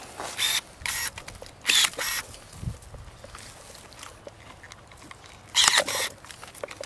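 Pruning shears snip wine grape vine canes in a vineyard, several sharp crisp cuts in close pairs, with quieter rustling and handling between them.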